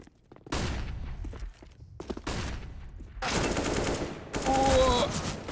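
Rapid rifle fire from M4s and AKs on the Mirage map in Counter-Strike, coming in several intense volleys separated by short gaps, growing louder toward the end with bright ringing tones over the shots.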